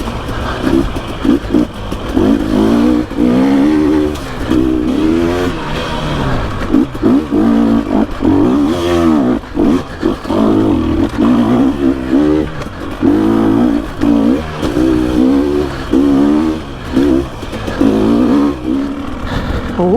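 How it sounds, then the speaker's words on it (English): A 2021 GasGas EC300 two-stroke dirt bike ridden on forest singletrack, its engine revving and bogging in rapid bursts, loud and close throughout with constant throttle changes. "get back on my 21 gas EC300"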